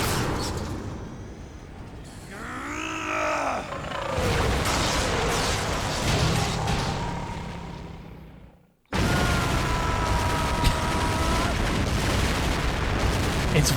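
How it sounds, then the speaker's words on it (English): Explosions in the Metal Gear Solid video game boom and rumble, loud and continuous, with a swooping synthetic tone, a sudden brief cutoff, then a renewed barrage. "It's wild how many explosions there are."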